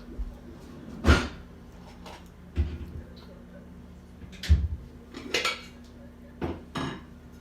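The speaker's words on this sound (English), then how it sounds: "Let me grab a small saucepan." A small metal saucepan is grabbed and handled in a home kitchen, making several sharp clanks and clatters spaced a second or two apart against a quiet background, close by and fairly clear.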